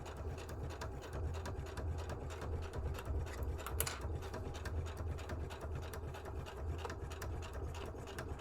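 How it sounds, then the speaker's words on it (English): A sewing machine runs steadily at home, stitching an unusual homemade project with a rapid, even mechanical whir throughout, close and moderately loud, with no talking. "I'm sewing for you."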